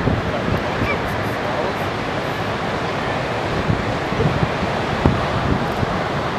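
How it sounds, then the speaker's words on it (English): Breaking ocean waves at Ocean Beach roll in as a steady, loud surf wash, with wind noise buffeting the microphone and a few heavier thumps of surf partway through. "He's kind of heading in towards some breaking waves."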